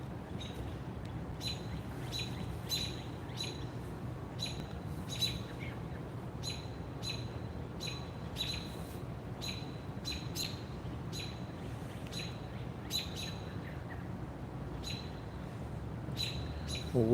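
Birds chirp repeatedly in trees at a university quad, rapid high tweets recurring in clusters throughout over a steady, fairly loud background hum of outdoor ambience.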